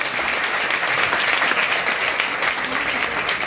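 Steady, dense applause from an audience at a gathering in Jodhpur honoring a retired IG, sustained and fairly loud throughout with no speech over it.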